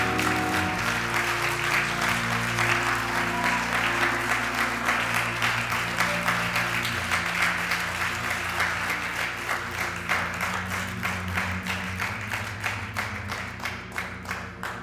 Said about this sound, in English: Come on and clap your hands all over the room.